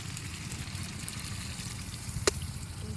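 Hot water is poured into a pot of mutton curry cooking outdoors in a village garden, making a low, steady trickle and splash with one sharp clink near the end.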